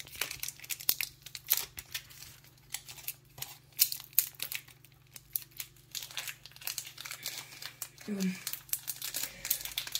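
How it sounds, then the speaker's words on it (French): A foil pack of Pokémon cards is torn open and crinkled, bursts of close crackling and rustling for several seconds, while someone talks over it. "Et on va ouvrir un autre paquet."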